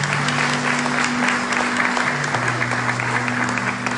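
A church congregation breaks into strong, dense applause that holds steady and full for the whole stretch, with a low sustained tone humming underneath.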